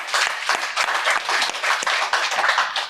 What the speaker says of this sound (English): Oh, I'm going to clap.